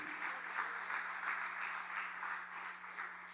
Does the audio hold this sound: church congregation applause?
yes